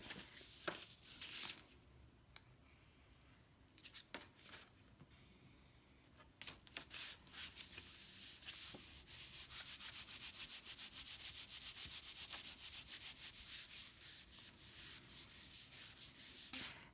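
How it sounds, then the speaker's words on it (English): A paper card is folded and rubbed down during an SVG kit assembly, giving soft, close scraping and brushing strokes, sparse at first and then continuous, with no talk. "Then you can insert your card and fold the top down."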